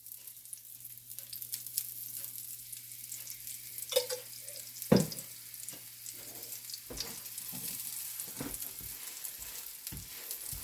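A Raja Rani paratha fries in oil on a pan with a constant sizzle, punctuated by sharp taps and scrapes as it is turned, near and moderately loud with no talking.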